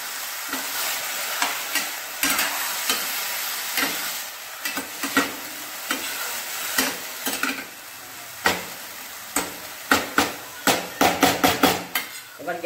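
Vegetables (banana stem) frying in a pan with a steady sizzle, broken by repeated sharp clacks of a utensil stirring and scraping, quickening toward the end.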